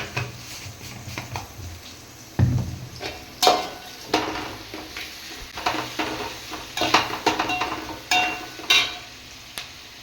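Sliced onions sautéing in a pan with a pinch of salt for masala biryani, a steady low sizzle broken by repeated scraping stirs of a spatula, close and moderately loud, no voices.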